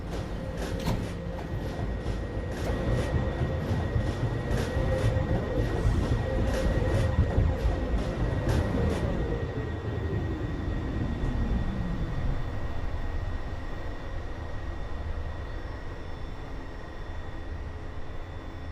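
A Manhattan-bound 1 subway train at Rector Street rumbles steadily nearby, its broad roar and squealing tones slowly winding down and fading as it slows, leaving a quieter station hum.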